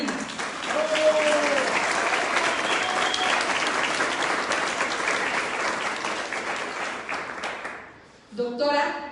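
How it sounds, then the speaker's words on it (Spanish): Sustained audience applause at a book presentation in Tepeaca, Puebla, a dense, steady clapping that continues for about eight seconds, then dips and briefly swells again near the end. "Brindamos un fuerte aplauso para nuestro presidente municipal de Tepeaca, Sergio Salomón Céspedes Peregrino."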